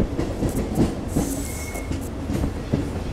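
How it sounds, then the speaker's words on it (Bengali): A passenger train on the Agartala–Udaipur line in Tripura pulls into Bishramganj station: rhythmic clickety-clack of wheels over rail joints with a brief high wheel squeal, close and steady, and no talking. "বিশ্রামগঞ্জ ঢুকছে আমাদের ট্রেনটা"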